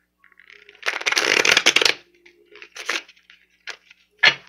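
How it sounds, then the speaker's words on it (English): Tarot cards are shuffled in a quick riffle, a crisp flurry lasting about a second, followed by a few softer shuffles and taps, close and dry. "Guys, I'm shuffling these cards"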